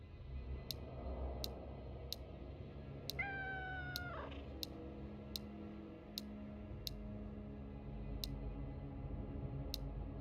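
A cat meows once, a single drawn-out call midway through, inside the video game Road to Vostok. It sits over a steady low background hum with a faint, regular ticking throughout.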